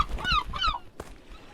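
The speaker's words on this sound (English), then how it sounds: "After being assaulted by birds for many minutes" Birds in the video game Peaks of Yore honk and squawk in two rising goose-like calls, close and loud, followed by a brief thud and quieter noise as they attack.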